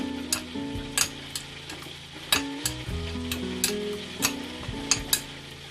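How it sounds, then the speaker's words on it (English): Food seasoned with paprika sizzles in a hot pan while a utensil scrapes and knocks against it in irregular stirring strokes, close and clear. "I'm just going to give that a stir."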